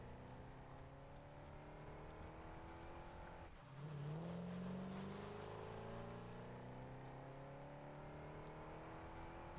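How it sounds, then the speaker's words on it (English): An off-road vehicle in the video game Satisfactory drives with a steady engine drone, then revs up midway into a louder, rising whine that holds for the rest of the stretch, with no talking. "seeing what an off-road vehicle does in this game. It is unwieldy."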